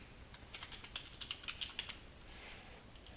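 A password is typed on a computer keyboard as a sequence of soft, quick, faint keystrokes in an uneven rhythm over a low background hiss.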